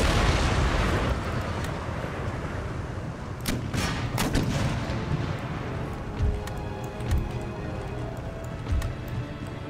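Artillery fire and shell impacts from an Empire: Total War battle, a dense rumbling barrage with several sharp booms and thuds rising over continuous low battlefield noise.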